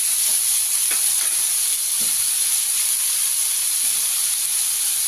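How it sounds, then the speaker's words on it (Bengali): Whole spices and dried chillies frying lightly in hot oil in a pan, giving a continuous bright sizzle with faint stirring scrapes now and then. "হালকা করে ভেজে নেবো মশলাগুলোকে।"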